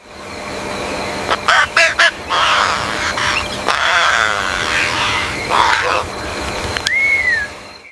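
Birds calling from tree branches at night, a mix of short bright chirps and squawky, honk-like cries coming in bursts, with a clear rising-and-falling whistle near the end over a steady low hum.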